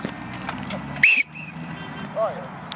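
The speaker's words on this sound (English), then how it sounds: "So there goes the respawn whistle" A respawn whistle sounds at a live action battle game played around a chapel: one sharp, bright blast over a background of clattering and bustle.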